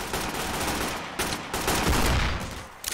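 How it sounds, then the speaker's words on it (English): Shotgun blasts from an unusual triple-barrel shotgun in Garry's Mod, a few loud, close shots with sharp onsets over a busy game background, no talking. "This server has a triple barrel shotgun."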